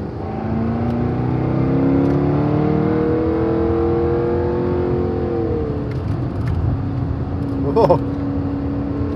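A car brakes and accelerates through a turn, its engine note falling and rising in loud, smooth sweeps from inside the cabin, with a brief knock near the end and faint voices underneath.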